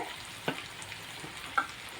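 Dried fish fries quietly in a pan, a soft low sizzle with a couple of brief clinks or stirring taps.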